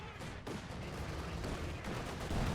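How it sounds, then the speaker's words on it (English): Gunfire in a World War II strategy video game, a dense, continuous stream of battle noise with scattered pops and bursts at moderate loudness. "they're just popping shots on the Soviets on the hill"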